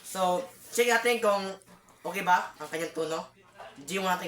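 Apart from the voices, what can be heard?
No everyday noises stand out.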